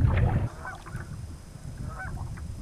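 A goose honks loudly outdoors, a burst of close, harsh honks at the start followed by fainter calls over rumbling wind and ambient noise.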